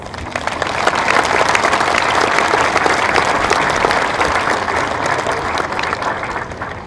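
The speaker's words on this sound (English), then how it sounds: "Let's give them a round of applause." A large crowd at a high school graduation applauds steadily, dense clapping rising quickly and holding loud throughout.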